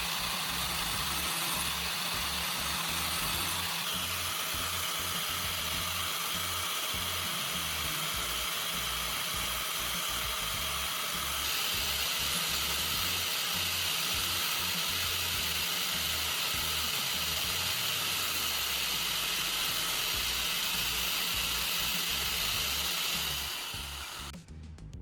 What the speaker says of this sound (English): Carefully move the knife along the rotating disc, ensuring an even grind.